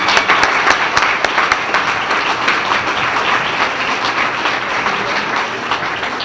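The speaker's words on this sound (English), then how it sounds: "Let's give George another round of applause." A dinner crowd at a chamber of commerce event gives a loud round of applause, dense clapping peaking early then holding steady and slightly easing.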